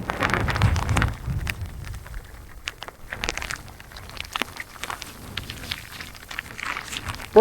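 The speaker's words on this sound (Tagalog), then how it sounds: "Nalakas na ang hangin!" Gusty typhoon wind crackles and rustles against the microphone while fishing, loudest at the start, then scattered bursts and pops.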